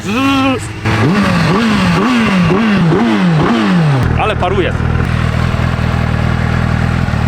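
A Suzuki Hayabusa sportbike converted into a motocross bike revs hard in a rising, wavering series of throttle blips, then settles into a steady loud idle, with a person speaking over the engine.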